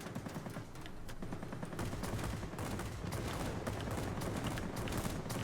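Fw fighter plane machine guns fire in the World of Warplanes video game: long, steady rapid-fire bursts that sound close and loud and hold for several seconds, with no voices.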